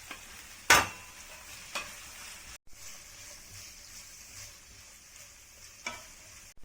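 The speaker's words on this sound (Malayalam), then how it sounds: "പച്ചമുളക്, വേപ്പില, വെളുത്തുള്ളി എല്ലാം കൂടി ചേർത്ത് നമുക്കൊന്ന് നന്നായിട്ടൊന്ന് വഴറ്റിയെടുക്കാം." Green chilies, curry leaves, garlic and ginger sauté in a pan for a Kerala-style liver curry, with a soft steady sizzle under sharp scraping stirs of a spoon.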